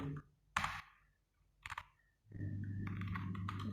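Python code being typed on a computer keyboard: a few scattered, quiet key clicks separated by pauses, followed by a steady low hum in the background.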